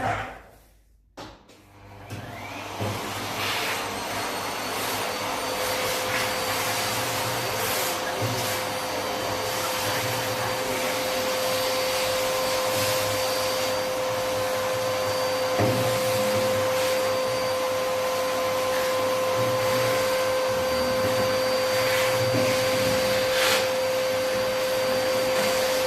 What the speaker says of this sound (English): I'm going to be turning the vacuum on, so it's going to get a little bit noisy for a sec.